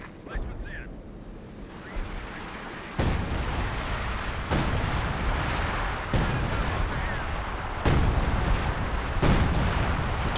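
Heavy .50 caliber machine gun fire in a video game, several loud booming bursts at irregular intervals over a constant rumbling battle din, with a commentator talking throughout.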